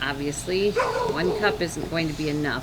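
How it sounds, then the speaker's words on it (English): A dog barks and yips repeatedly in short bursts close by indoors, mixed with a person talking over it. "Please excuse the dog."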